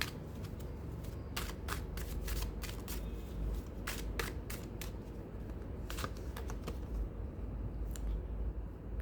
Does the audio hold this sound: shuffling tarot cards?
yes